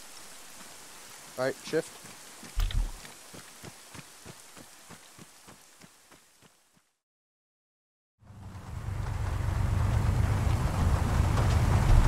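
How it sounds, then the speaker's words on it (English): Rain falls in the war video game HAARP: Fog of War as a steady, dense hiss that swells in after a short silence, following a stretch of rhythmic heartbeat-like thumps and brief talk. "It's raining again."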